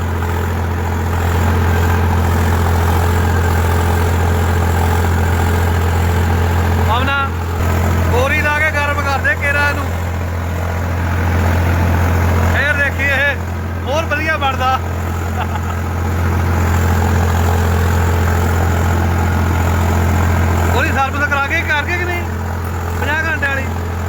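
A Swaraj 855 or New Holland 3630 tractor engine drones steadily throughout, loud and close, while people talk in short stretches over it.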